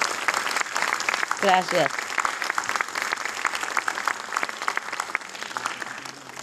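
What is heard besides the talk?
audience applause at book launch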